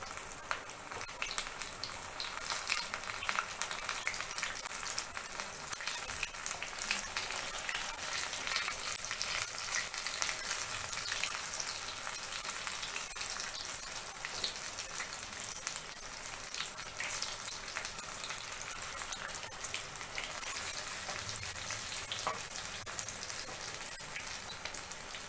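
Chicken lollipops deep-fry in very hot oil with a steady, dense crackling sizzle that continues evenly throughout, without pause or speech.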